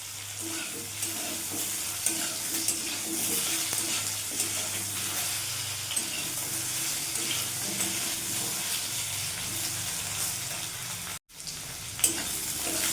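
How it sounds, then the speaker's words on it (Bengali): Taro pieces sizzle steadily in hot oil, a continuous crackling hiss with occasional stirring, and no one speaking. "কচু দিয়ে করলে দারুণ লাগে একটু লাল লাল করে ভেজে নেব"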